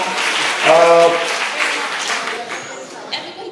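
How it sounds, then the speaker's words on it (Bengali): An audience at an information and communication technology awareness program in Comilla breaks into a burst of clapping, heard as a dense patter under a speaking voice. "জোরে হাততালি দেই"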